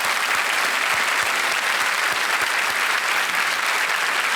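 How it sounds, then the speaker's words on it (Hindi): Sustained studio audience applause on a quiz game show, a dense, steady wash of many hands clapping at even loudness throughout, with no talk over it. "एक बार फिर तालियों के साथ"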